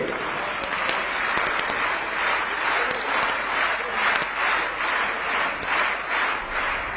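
Applause for mitanin health workers at a state government event: a large crowd claps steadily for the whole stretch, dense and continuous, rising and falling slightly in loudness.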